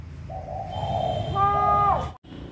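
A pet bird gives a drawn-out tonal call, rising into a clear whistled note for about two seconds before cutting off, close and fairly loud against a low room hum.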